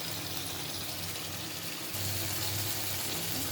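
Water poured into a cooking pot of country chicken and jackfruit seeds, a steady gushing splash that grows fuller and louder partway through, close and continuous with no talk.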